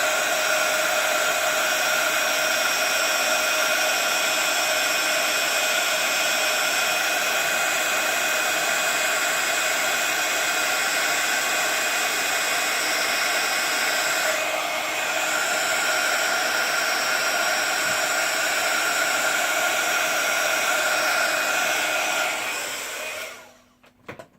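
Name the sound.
heat tool blowing hot air on stamped card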